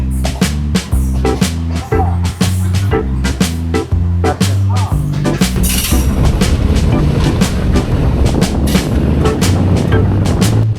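A shuttle train pulls into Saraikol station with loud, rhythmic clickety-clack of wheels over rail joints and a deep rumbling engine, growing denser and noisier midway as it rolls in close.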